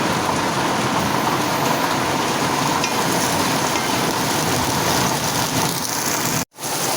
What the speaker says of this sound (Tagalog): Dahil sobrang lakas po dito ng ulan